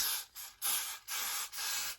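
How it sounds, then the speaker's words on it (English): Got2b hairspray hisses along the perimeter of a colored 613 wig in four short, close bursts, each followed by a brief pause. "Get some Got2b spray. Pull your wig back and just spray"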